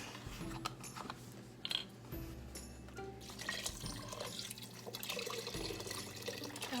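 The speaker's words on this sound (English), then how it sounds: "now I'm going to pour this whole thing, let's see how many ounces, 32 ounce thing of beef broth in it" Beef broth from a 32-ounce carton pours into a pot of stew, a faint running and splashing liquid sound with small drips, heard close and alone.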